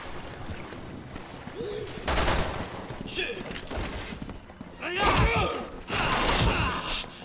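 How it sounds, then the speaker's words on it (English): Bolt action rifle fire in the video game Resident Evil 6, with a few heavy booming shots and impacts spaced out amid loud game action. "Using a freaking bolt action rifle."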